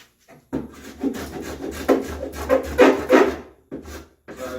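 A hand plane squares the end of a walnut board with several rough scraping strokes of rising and falling loudness, close up, separated by short pauses, with no talking.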